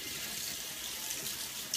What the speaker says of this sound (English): I'm just gonna wash off my applicator.